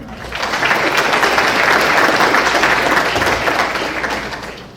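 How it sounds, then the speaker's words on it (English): Audience applause fills a college awards ceremony, swelling quickly into dense, loud clapping that holds steady for several seconds before tapering off, with no talking over it. "So let's give him a round of applause."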